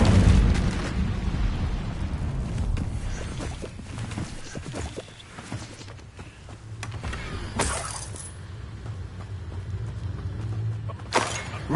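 The Incendio fire spell is cast in Hogwarts Legacy, giving roaring, crackling bursts of flame with heavy booms up front, then a quieter rumble and a few sharp flares near the end.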